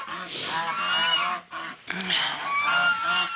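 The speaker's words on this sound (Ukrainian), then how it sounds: "Ось ця біла гусочка." Several geese, including a white goose, honking close by in loud, harsh bursts, with a brief pause before the calling resumes.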